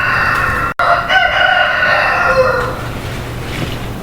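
A rooster lets out one loud, close cock-a-doodle-doo crow, its long ringing call trailing off into quieter background noise.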